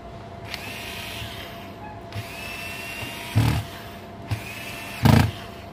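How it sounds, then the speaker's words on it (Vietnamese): Screws are driven back into a Panasonic air conditioner with an IPM overheating fault: two short, close whirring bursts from a powered driver rise above a steady low hum, with no talk. "Rồi bây giờ mình sẽ lắp ốc lại các bạn ha."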